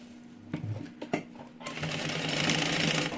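A home sewing machine stitches a small two-in-one mini backpack, a few short clicks and taps giving way to a steady, fast, close mechanical whir that runs to the end.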